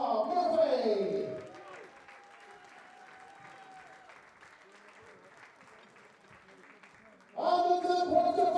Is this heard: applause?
yes